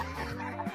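A chicken gives a short burst of clucking, close and fairly faint, with no other sound around it.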